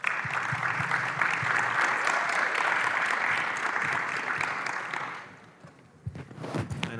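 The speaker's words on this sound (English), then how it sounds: "So big applause for Stani" Audience at a ConsenSys blockchain conference in Bogota applauding to welcome a speaker, dense clapping that holds steady for about five seconds, then fades out, followed by scattered footsteps and shuffling.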